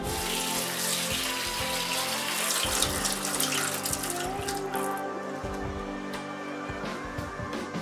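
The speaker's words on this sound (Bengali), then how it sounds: "প্রথমে ভিজিয়ে রাখা সয়াবিন ভালো করে ধুয়ে নিতে হবে।" Tap water runs steadily into a sink while soaked soybeans are rinsed and stirred by hand, a continuous close splashing wash with light clatter, no talking.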